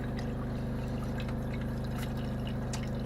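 Water runs steadily through RV drain traps to flush out antifreeze, a loud continuous pouring rush with a low pump-like hum underneath and no talking.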